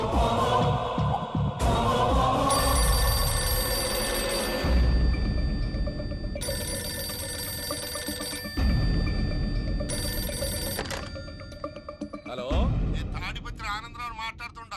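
A telephone rings repeatedly in a film scene, its bell sounding in bursts separated by pauses, with background music and voices talking over and between the rings.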